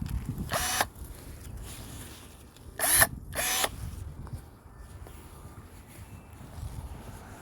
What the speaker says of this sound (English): This year I'm going to try out my Craftsman battery powered pruners to make swift cuts just with the touch of a button